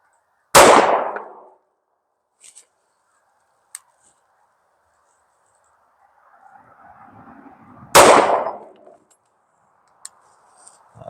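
Two sharp, loud shots from an Avidity Arms PD10 9mm semi-auto pistol fired from a steady rest, several seconds apart, each with a ringing tail, a steel target ping following, and faint rustling between.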